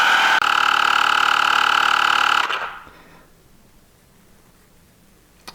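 A pocket-sized portable tire inflator pumps a tire with a loud, steady, buzzy motor drone that cuts off abruptly after about two and a half seconds, followed by quiet room tone.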